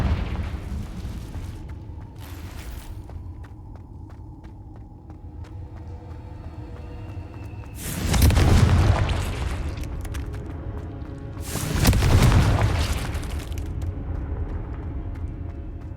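The Confringo explosive spell goes off twice in Hogwarts Legacy, each a loud booming blast with a rumbling tail, separated by a few seconds over steady low game ambience.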